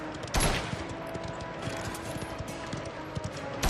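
Rapid bursts of gunfire from a video game with infinite ammo crackle in a dense stream of sharp shots, with one louder blast near the start, all fairly close and without talk.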